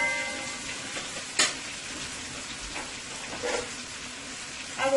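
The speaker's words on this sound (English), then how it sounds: "I will let my potato fry nice and golden brown until it's nice and tender." Potato pieces fry in a covered pot, making a low, even crackle with occasional louder pops and a spoon tap or two, and no voices.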